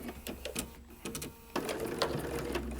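Domestic sewing machine stitching an English paper pieced daisy chain quilt, a steady mechanical whirr with clicking that starts and stops early on, then runs continuously through the second half, close and moderately loud.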